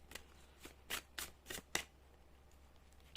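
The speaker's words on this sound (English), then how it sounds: "We are going to now shuffle cards for you to see what we can receive for today from our guides." Tarot cards being shuffled by hand during a card reading: a run of crisp riffling bursts, five or six quick ruffles close to the ear against a quiet background.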